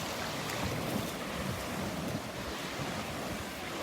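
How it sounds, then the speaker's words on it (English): Ocean waves wash onto a beach at Delnor-Wiggins with steady, continuous surf and some wind noise, a constant broadband roar with no talking. "I think the waves are starting to pick up a little bit"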